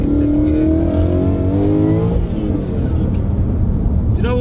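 A loud 800 bhp supercharged Ford Mustang engine revs hard and climbs in pitch as it accelerates through second gear, the roar close and continuous, with a brief dip at the shift.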